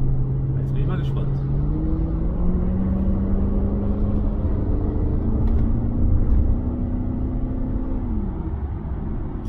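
A BMW 540i pulls forward under acceleration, its engine note climbing steadily in pitch over several seconds before easing off, with a continuous road rumble beneath, heard from inside the car.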